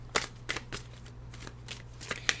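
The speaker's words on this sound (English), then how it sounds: "Let me shuffle." Tarot cards being shuffled by hand in several quick riffling bursts, crisp papery flutters separated by short pauses, close and fairly quiet with a low steady hum underneath.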